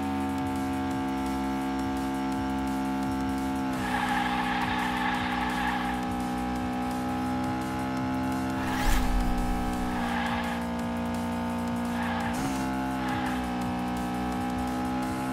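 Toy cars race and boost in the Hot Wheels Unleashed video game: a steady engine drone layered with music runs throughout, and bursts of whooshing boost and tire hiss flare up several times.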